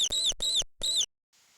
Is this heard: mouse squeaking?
yes